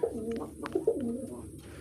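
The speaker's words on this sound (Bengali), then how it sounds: "দেখেন কত সুন্দর কবুতর।" Pigeons in a pigeon house give low, throaty coos close at hand. A few rolling calls follow one another over soft background noise.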